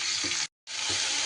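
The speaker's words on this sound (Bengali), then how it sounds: "ঝিঙেগুলো দিয়ে আমি ভালো করে ঘিয়ের মধ্যে একটু নাড়াচাড়া করে নেব" Ridge gourd pieces sizzling hard in hot ghee as they are stirred in the pan: a loud, steady hiss cut by a brief silent gap before the frying resumes.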